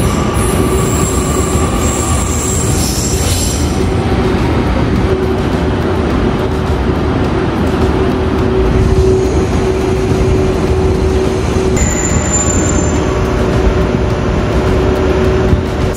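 A Kyushu express train departs a platform, rumbling loudly past at close range, with a steady roar of wheels on rails and occasional high squeals, continuing throughout.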